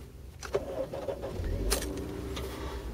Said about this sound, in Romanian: Deci eu pornesc mașina.